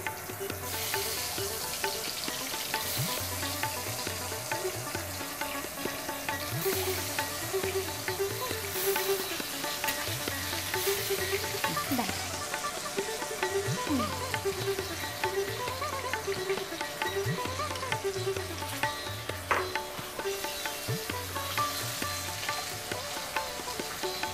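Eggs sizzle steadily in hot oil for a Bengali egg curry, a continuous close crackle with small pops that holds at an even loudness throughout, with no voices.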